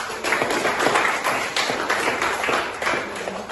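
A group clapping hands in a steady, rapid rhythm, the claps blending into a continuous patter at moderate volume with no talking.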